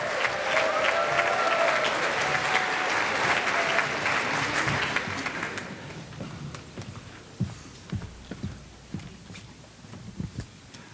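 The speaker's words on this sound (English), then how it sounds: "Please give Erin a fantastic round of applause." A festival-of-the-arts audience applauds Erin, full dense clapping for several seconds that thins out and fades to scattered individual claps.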